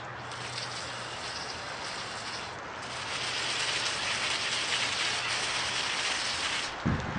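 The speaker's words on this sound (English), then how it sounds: "I'm going to use this angle setting on this nozzle and kind of get in the derailleurs." Angled spray from a hose nozzle washing a bicycle's derailleurs: a steady broadband hiss of water hitting metal, growing a little stronger partway through, with a brief thump near the end.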